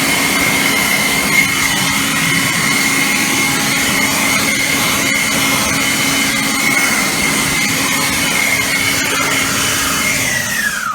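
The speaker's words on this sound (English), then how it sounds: "what leaf blower should you buy?" A powerful leaf blower blasts leaves and debris out of a car's back area and engine bay, a loud steady roaring whine holding constant for the whole stretch before easing off at the very end.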